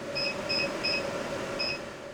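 Short electronic alarm beeps from the AC inverter of a Licitti CyberBox 3000 power station, three quick evenly spaced chirps, a pause, then a fourth, close and clear over a low steady hum.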